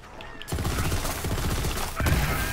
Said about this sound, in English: So you see those explosions going, so as you shoot this thing